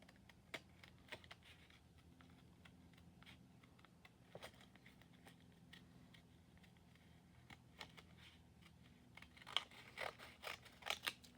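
Scissors snipping through two paper decorations at once, a quiet series of close, irregular crisp cuts with small paper rustles, growing busier toward the end.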